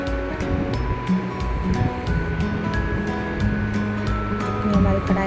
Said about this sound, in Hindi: तेल हमारा अच्छे से गर्म हो जाएगा तब हम डालेंगे जो हमने आलू को फ्रेंच फ्राई जो तैयार करके रखे थे